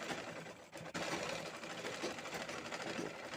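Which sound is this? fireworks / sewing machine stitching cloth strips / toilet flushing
sewing machine stitching cloth strips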